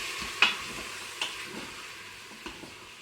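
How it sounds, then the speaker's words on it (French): Chicken pieces for a blanquette browning in a Cookeo multicooker, with a soft, steady sizzle and a few faint clinks of stirring. "commencer à dorer ma blanquette de volaille dans un premier temps"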